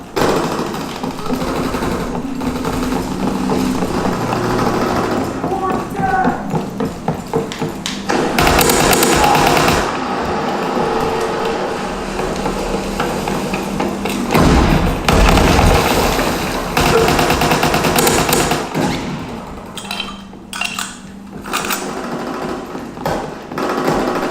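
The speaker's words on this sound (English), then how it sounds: "Enemy mortar fire incoming." Mortar fire explosions in a video game sound as repeated heavy booms and thuds over a dense, loud mix of battle noise, with sharp bursts near the middle and a quieter stretch toward the end.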